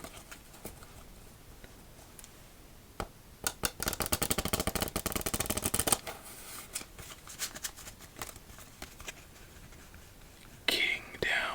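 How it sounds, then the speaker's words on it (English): Emerald-edition Tally-Ho playing cards being riffle shuffled for a round of solitaire, a dense crackling burst of fluttering card edges with soft taps and handling rustles before and after, close and quiet. "Let's see our victory shuffle."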